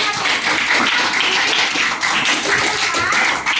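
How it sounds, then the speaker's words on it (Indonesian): A junior high school class of students claps together in a dense, steady burst of applause that fills the room without a break for several seconds. "tepuk tangan tuh"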